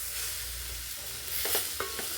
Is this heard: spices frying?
yes